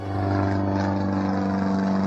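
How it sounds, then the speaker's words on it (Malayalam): A propeller airplane from a film scene flies overhead, its steady droning engine hum holding loud and constant throughout the brief moment with no talk. "അല്ലാതെ നോക്ക്, ഒരു പ്ലെയിൻ"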